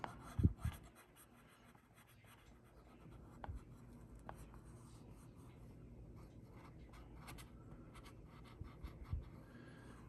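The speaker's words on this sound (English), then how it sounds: "Burnish it in." Bare metal foil being burnished onto a smooth clear-coated model surface, making faint, close rubbing and scratching strokes, with a couple of soft knocks at the start and end.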